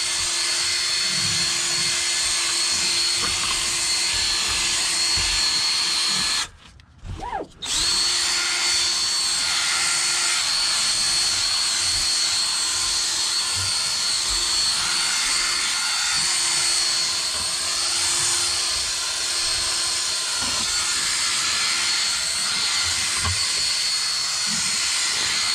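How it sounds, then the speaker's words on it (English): A cordless drill spins a scrubbing brush across fabric car upholstery, giving a steady, loud whirring hiss that runs almost throughout and cuts out briefly for a second near the middle before resuming. "put it on my drill. I'm gonna go over it."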